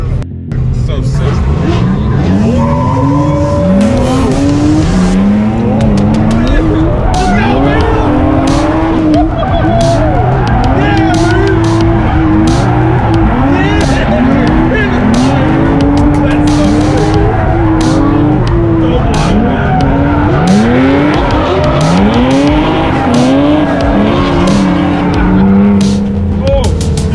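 A race car drifts for its first time, tires squealing in long rising and falling wails over a loud, continuous engine roar throughout, with voices talking beneath.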